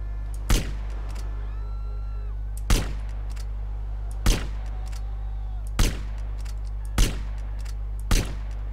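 Sniper rifle shots in a Los Santos police video game, six sharp booming cracks spaced roughly one to two seconds apart over a constant low engine-like drone, with faint game sounds between.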